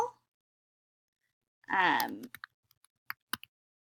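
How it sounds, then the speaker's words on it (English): A voice speaks briefly, then several quick, sharp key taps sound on a Mac keyboard, close and isolated in near silence. "I'm going to write Matthew."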